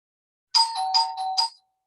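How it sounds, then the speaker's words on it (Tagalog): A doorbell chimes nearby in a home, a quick sequence of bright electronic tones lasting about a second, heard alone in a quiet room. "may nagdo-doorbell"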